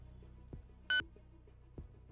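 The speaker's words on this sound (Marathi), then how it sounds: "स्वातीने फोन कट केला" A phone call is cut off with a single sharp electronic beep, brief and clear against near silence and a couple of soft knocks.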